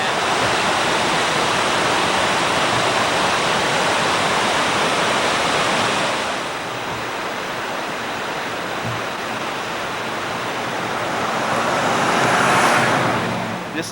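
Bridal Veil Falls in Yosemite National Park runs at a low flow, giving a steady, broad rushing roar of falling water that dips slightly midway and swells again near the end.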